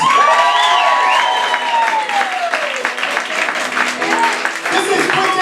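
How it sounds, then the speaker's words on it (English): Cabaret audience at a New York cosplay cabaret show applauding and cheering, with clapping under whoops and a loud gliding voice, lively and close. "Give a round of applause for our accompanist, Quentin Ellis."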